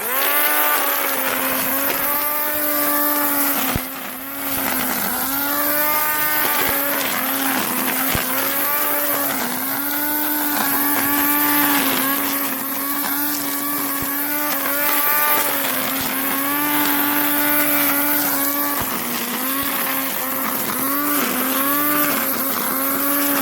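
A weed wacker whines loudly while cutting grass, its revs rising and falling in repeated sweeping waves as it moves back and forth, with a brief dip around the four-second mark.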